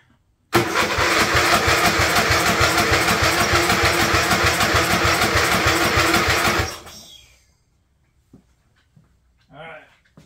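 An old Craftsman riding mower engine cranks hard from a jumper pack wired straight to the starter, a loud rapid rhythmic chugging for about six seconds that then stops abruptly, followed by a short burst of speech.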